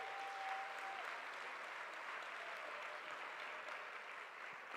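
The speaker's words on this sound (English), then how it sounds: "Then to all the presenters, I think we can give them a big round of applause." Conference attendees give the presenters a round of applause, a steady wash of clapping that sounds somewhat distant and soft, holding level before easing slightly near the end.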